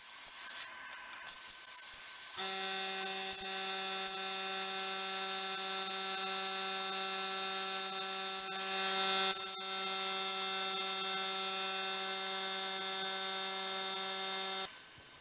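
Plasma cutter slicing steel parts for a can crusher. A steady, loud hiss with a strong buzzing hum runs unbroken for about twelve seconds after a short burst at the start, with no talking.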